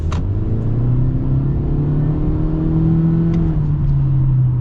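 A 2023 Honda CR-V SUV accelerating in traffic, its engine note rising in a loud, steady drone from inside the cabin, easing briefly before climbing again, with no voices.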